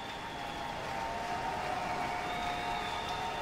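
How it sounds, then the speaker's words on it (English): The crowd at a college softball game between LSU and North Dakota State makes a steady, even roar of cheering and applause, heard at a distance without a clear break. "This crowd sending out encouragement to get this game over."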